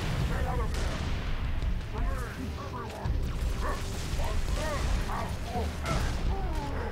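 Grenade explosions and gunfire in Halo 3 ODST, heavy booms and rumbling blasts layered with combat noise and chirping effects, while a voice talks over the action.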